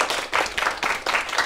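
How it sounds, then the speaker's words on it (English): A social science class claps for a guest, a brief burst of scattered applause with some faint voices under it. "let's give a round of applause to Amanda McElmurray"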